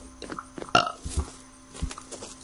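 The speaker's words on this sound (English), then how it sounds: "I just like sometimes like to randomly burp." A short, throaty burp from a man sounds close up amid faint background noise.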